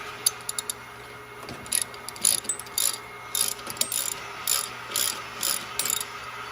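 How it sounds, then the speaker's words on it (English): A hand ratchet loosens the mounting bolts on an RBF-15 electric motor, clicking in short bursts of rapid pawl ticks at a fairly even pace close by, with no talking. "You come up here, you loosen your 4 motor bolts."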